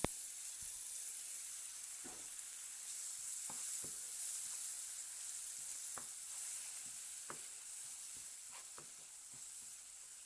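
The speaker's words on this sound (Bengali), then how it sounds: "মুসুরের ডালটা ফার্স্ট একটু ভেজে নেওয়ার জন্য হালকা পানি ব্যবহার করতে হবে" Red lentils (masoor dal) sizzle softly in a pan, a faint, steady frying hiss broken by scattered clicks and taps of a spoon stirring.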